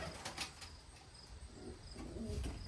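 Pigeons in a temporary loft made from an old dog kennel give soft, faint coos with light wing flutters and rustling in a quiet space.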